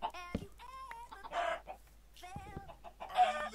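A chicken in the video game Minecraft clucks in a series of short, close calls with brief gaps between them, interspersed with a few louder squawk-like bursts.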